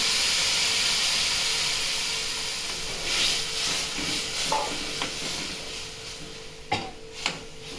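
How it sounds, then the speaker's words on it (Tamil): Tamarind water hits hot oil and masala in a pan for a kulambu, giving a steady loud sizzle and hiss that slowly settles, with a few faint stirring clinks toward the end. "இப்போது புளி கரைச்சி வச்சுருக்கோம் எலுமிச்சஞ்சை புளியை எடுத்து கரைச்சி வச்சுருக்கோம் அதை ஊற்றிக்கிறோம்"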